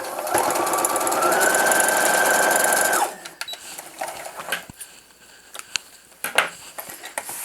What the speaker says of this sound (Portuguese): Vou costurar do avesso, porque como eu falei, eu não quero que dê prega aqui em cima do bolso